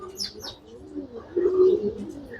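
Soft, close calls of a sick pigeon chick: a few thin high chirps, then a low cooing murmur, with faint background noise.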